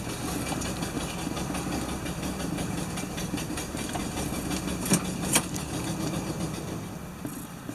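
A 1975 Lincoln Continental engine runs rough and fails to settle into an idle, giving a steady, close rumbling drone with a few faint clicks over the top.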